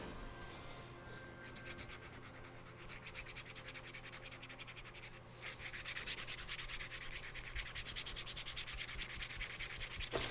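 Coarse 80-grit sandpaper scrubs steadily during the regluing of a guitar bridge, a dense raspy rubbing that grows louder and brighter about halfway through and continues close up without pause or talk.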